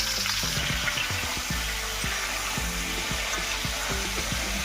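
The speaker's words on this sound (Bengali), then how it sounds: "এখন আমগুলা তেলের মধ্যে ভেজে নিব।" Mango pieces fry in a generous amount of oil for mango pickle, a loud, continuous close sizzle and crackle with bubbling underneath throughout, no one speaking.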